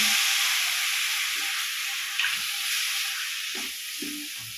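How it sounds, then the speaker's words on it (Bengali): Grated coconut and jaggery filling with a little water being stirred in a pan, a broad steady hiss of cooking with soft scraping strokes, close and without speech. "এভাবেই নেড়ে চেড়ে নারকেলের পুরটাও আমরা রেডি করে ফেললাম"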